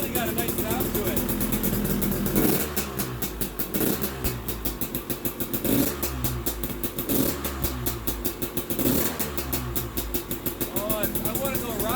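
2020 KTM 300xc TPI two-stroke enduro bike fitted with a Pro Circuit Type 296 spark arrester muffler, revving in repeated rhythmic bursts over a steady idle, close and continuous, with a person talking at times.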